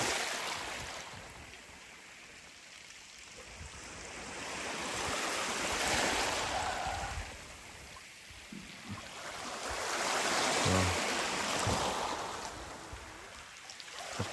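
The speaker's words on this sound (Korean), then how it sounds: "저 파도가 돌을 어루만지는 소리가 너무 좋은 곳이었습니다." Sea waves washing over stones on a Korean pebble beach, two slow surges rising and receding into a broad rushing hiss with rolling stone clatter, close and steady with no voices.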